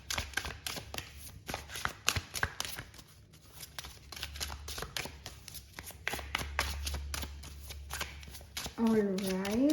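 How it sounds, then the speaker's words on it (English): Tarot cards shuffled and drawn by hand, a steady stream of close, crisp flicking and riffling over a low hum, with a brief voice surfacing right at the end. "Let me just pull some more cards here."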